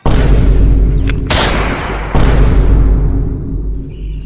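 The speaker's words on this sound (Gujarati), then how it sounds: "આવડો મોટો ધડાકો" A big explosive blast sound effect from a Gujarati comedy skit: a heavy booming burst with a long decaying rumble, then a second loud blast about two seconds later, both loud and close with no talk.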